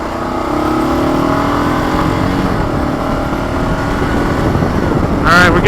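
A Kawasaki KLR650 motorcycle rides along River Road near New Braunfels, Texas, its single-cylinder engine producing a steady, close drone mixed with wind rush, and a brief rising rev near the end.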